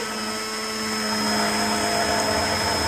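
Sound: hand blender whisking mayonnaise

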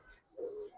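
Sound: pigeon cooing

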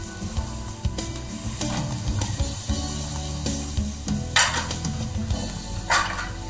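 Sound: kamal kakdi kebab frying and being flipped

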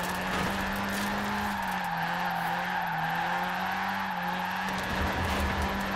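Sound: car engine revving slowly in video game Forza Horizon 4

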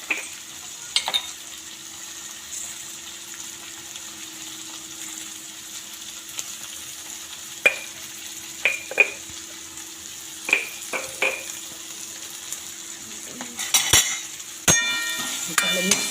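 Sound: stirring tomato and green pea bhaji in a pan

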